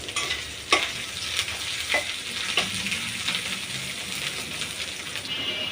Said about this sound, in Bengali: এখন দিয়ে ভালো করে ভেজে নিব।